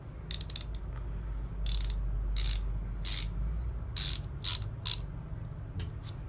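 A Tone 3/8-inch ratchet handle from a Japanese tool set clicks in several quick bursts of sharp metallic pawl ticks, close and crisp over a low steady hum.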